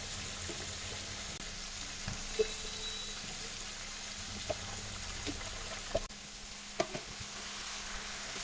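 Marinated beef sizzling in a pan with fried onions and ghee for biryani, a faint steady crackle and hiss with occasional soft pops and a stir or clink.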